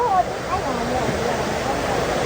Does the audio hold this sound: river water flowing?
yes